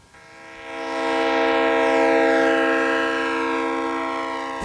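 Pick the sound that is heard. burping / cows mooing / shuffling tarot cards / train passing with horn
train passing with horn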